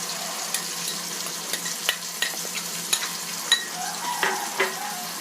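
Raw grated coconut and onion sauté in a pan for a traditional kara kuzhambu, a constant hissing sizzle broken by scattered light clicks and scrapes of a spoon.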